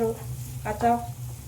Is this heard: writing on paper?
no